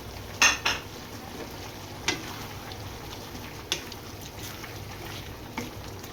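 Beef curry with potato pieces stirred in a pot, a few sharp utensil scrapes and clinks against the metal, spaced out over a quiet low simmer.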